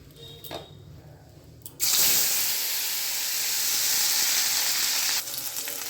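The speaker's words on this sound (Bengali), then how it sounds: "এখন আমি মাছটাকে ভেজে নেব" Bhetki fish frying in hot oil for a potato and green pea curry: a quiet start, then a loud steady sizzle that bursts in and holds before easing, with no talk.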